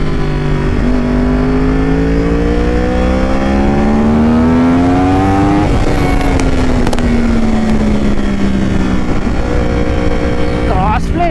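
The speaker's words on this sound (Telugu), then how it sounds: "there is nothing better then a cross plane sound అసలు" A crossplane-engine motorcycle is ridden on a morning ride, its engine note climbing steadily in pitch as it revs up, then dropping and rising again, loud and continuous with wind rush throughout.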